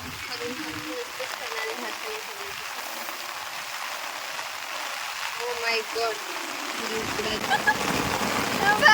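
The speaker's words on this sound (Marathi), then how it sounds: "अशा प्रकारे पाऊस आलेला आहे" Rain patters on a farm field in a steady hiss that grows heavier toward the end, while people talk and exclaim close by.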